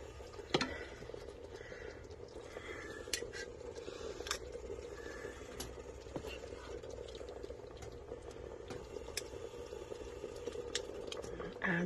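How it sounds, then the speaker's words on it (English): Dumplings added to a simmering Irish stew, with a steady bubbling simmer and scattered soft plops and scrapes across the clip, close and moderately quiet. "So let's put these dumplings in and see how it comes out."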